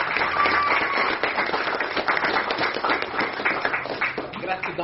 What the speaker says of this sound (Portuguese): Vamos aplaudir papai.